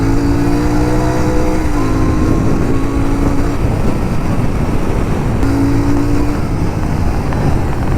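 A Royal Enfield Continental GT 650 motorcycle engine drones loudly and continuously while riding, with the pitch shifting as revs rise and fall over steady wind noise.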